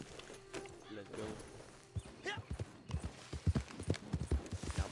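Hooves clip-clop as a horse runs in Red Dead Redemption 2 online, a steady rhythmic patter of hoof beats that grows faster and louder, with someone talking over it.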